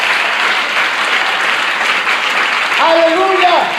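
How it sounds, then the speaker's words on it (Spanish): Applause from a church congregation during a worship service fills the whole stretch as a steady, dense wash of clapping, with a brief sung or called voice rising over it near the end. "Claro que le puede dar ese aplauso al Señor con toda libertad."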